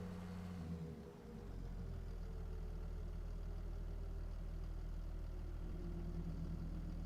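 Tractor engine with straight pipe exhaust in Farming Simulator 22, a low steady idling drone after a brief dip at the start, continuous and even, with no talk.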